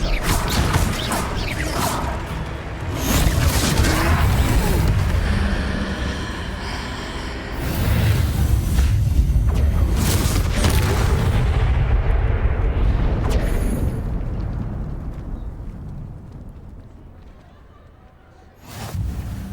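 Confringo spell explosions in the Hogwarts Legacy video game, loud booming blasts and crashing debris rolling in long waves during a troll fight, fading near the end before one more burst.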